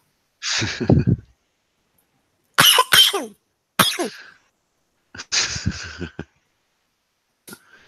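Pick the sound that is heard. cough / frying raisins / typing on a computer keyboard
cough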